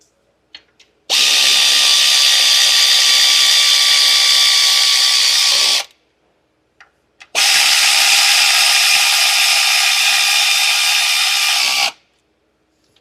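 A power tool tightens the lug bolts on the front wheel of a 2023 Genesis GV70 with locked-up front wheels: two loud, close, sustained whirring bursts of about five seconds each, separated by a short pause, with no talking.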